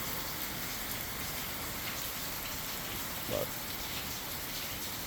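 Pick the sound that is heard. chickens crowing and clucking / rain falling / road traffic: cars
rain falling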